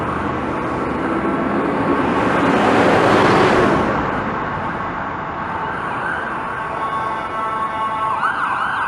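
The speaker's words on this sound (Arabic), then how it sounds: "سيارة إسعاف قادمة من الاتجاه المعاكس." An ambulance siren wails loudly, swelling as it approaches from the opposite direction and then fading as it passes, over steady traffic noise on Yonge Street in North York, Toronto.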